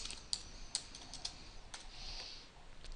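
Computer keyboard keys tapped to enter a style name, a short run of quiet, sparse clicks in a still room.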